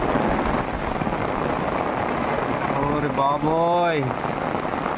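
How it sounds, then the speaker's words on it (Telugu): Heavy rain pours down in a dense, constant hiss, and a voice briefly exclaims near the end. "చూడండి ఫ్రెండ్స్ ఎంత పెద్ద వర్షం పడుతుందో"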